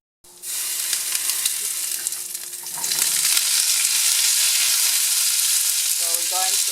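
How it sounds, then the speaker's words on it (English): Garlic sautés in hot olive oil with a loud, steady sizzle and crackle that swells a few seconds in and keeps hissing close up. A brief stirring scrape comes near the end. "We're just going to saute the garlic and olive oil"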